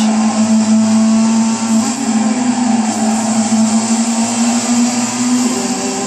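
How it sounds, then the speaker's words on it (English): Racing car engines in a video game, a loud, sustained high whine droning steadily with slight pitch shifts, like cars at speed, with no talking. "Engines sound fantastic as they come down to approaching 130R for the first time."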